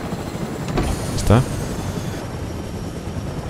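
A helicopter in the Fortnite video game makes a steady, rushing mechanical drone under a voice speaking Spanish, with a brief louder swell partway through.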